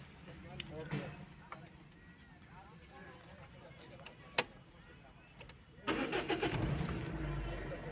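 A car engine cranks and catches about three quarters of the way through, then settles into a steady running rumble after quieter clicks and handling noises, with voices nearby.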